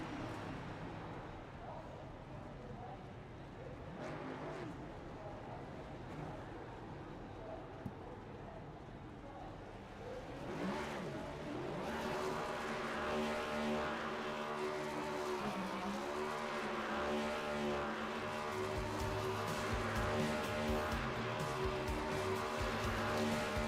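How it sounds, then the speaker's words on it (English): Devin Sprecher's number 26 race car does burnouts after a win. The engine revs rise and fall in strong, sustained tones, starting faint and distant, then growing loud and steady with tire-spinning roar. "Devin Sprecher going to be doing the burnouts"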